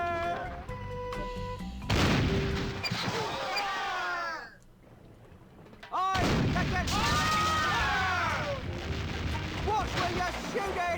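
Gunfire aboard a ship's hold in The Curse of Monkey Island comes as booming cannon-like blasts around sweeping whistles and chaotic effects, with cartoonish voices heard during it.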